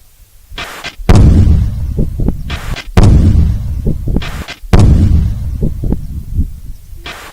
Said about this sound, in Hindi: ऐसा धमाका हुआ कि धरती कांप गई